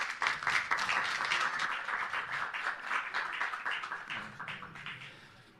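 Audience applause at a book presentation during an international book fair, a dense, steady clapping from many hands that fills the room, holding loud and then tapering slightly toward the end.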